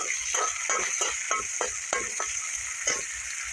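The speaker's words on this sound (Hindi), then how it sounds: "इस प्याज को हमें तब तक फ्राई कर लेनी है जब तक कि इसकी कलर ना हल्की सी चेंज हो जाए" Onions fry in a pan with a steady sizzle; stirring strokes scrape and tick through it at an uneven rhythm, close and fairly loud, with no voices.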